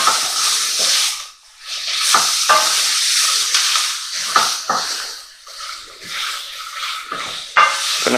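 Beef ragu sizzles steadily in a dry pan with no oil, a dense close hiss broken by repeated scraping stirs and brief louder flare-ups.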